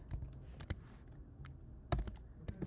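Keys tapped on a computer keyboard while entering a plotting command in Python code, in short irregular bursts of close, crisp clicks with brief pauses between them.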